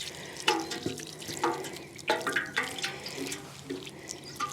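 Newly planted garlic and onions being watered in a garden, with splashing and pattering water in uneven bursts, close and moderately quiet.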